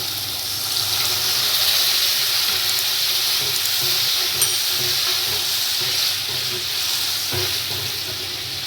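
Kidney beans in a pan of tomato masala fry with a loud, steady sizzle and hiss, with faint stirring scrapes and a soft clack near the end, no talking.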